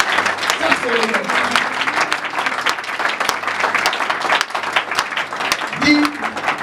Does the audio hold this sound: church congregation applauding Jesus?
yes